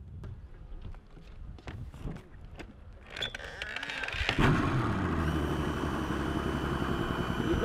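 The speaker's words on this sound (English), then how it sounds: "Motor." A 225 boat outboard motor starts up after some footsteps and clatter, then settles into a steady, loud, close running drone.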